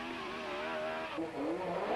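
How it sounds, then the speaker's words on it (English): A hill climb race car at Shelsley Walsh in 1995 revs steadily while warming up its rear tyres, the engine note dipping briefly then climbing again, close and sustained. "Warming up his rear tyres, 22-year-old Andy Prio came to the line determined to clinch the championship"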